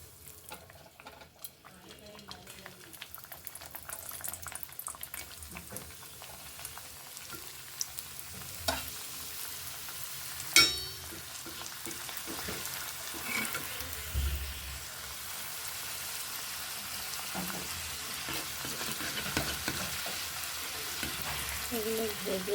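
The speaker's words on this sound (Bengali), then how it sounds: "এখন আমি এই যে এগুলা ডুবা তেলে ভাজবো।" Papdi chaat pieces deep fry in a pan of oil with a continuous crackling sizzle and occasional stirring clatter. A louder knock comes around the middle.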